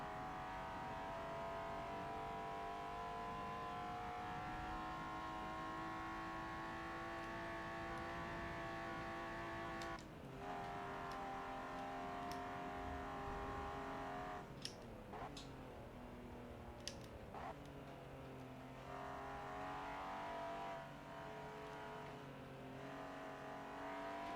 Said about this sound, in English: This car does not like going up hills.